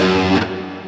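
Short distorted electric guitar phrase from the second ending of a riff, a quick burst of notes fading out within a second, played alone.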